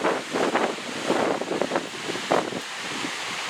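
Sea waves wash onto a Scottish beach beside a promenade, a steady broadband surf wash with several soft swells rising and falling, mixed with gusty wind buffeting the microphone and no voices.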